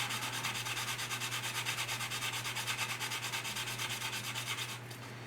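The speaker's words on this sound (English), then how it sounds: "So again, I'm just gonna sand that down a little bit more." Steady, continuous sanding on the plastic fuselage of an Italeri 1/32 Panavia Tornado model aircraft, a close, even rhythmic rasping that holds for several seconds and then eases off near the end.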